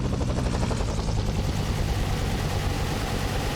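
Helicopter in an Arma Vietnam-era operation, a steady loud rotor chop with heavy low engine drone that holds through the whole stretch, close by and alone without voices.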